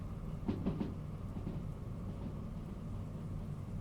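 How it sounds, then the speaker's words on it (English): Heavy rain pours in the train game Derail Valley, a dense steady hiss over a deep continuous rumble of thunder and rolling train, with no voices. "Very heavy rain."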